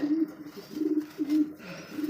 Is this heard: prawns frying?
no